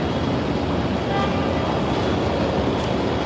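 An Amtrak Illinois Zephyr train, hauled by locomotive 4608, arrives at Chicago station, heard from onboard as a steady, dense rumble and rattle that does not let up, with no voices.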